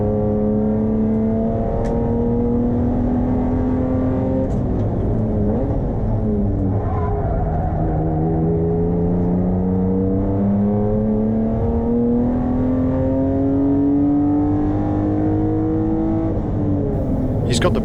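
BMW production race car lapping Hampton Downs, its engine note held loud and close throughout, pitch rising and falling steadily through the gears and infield corners, with no break in the sound.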